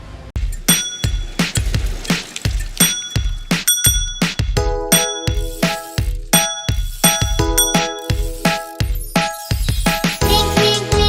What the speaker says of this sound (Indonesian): ketika anak tersebut membunyikan bel sepedanya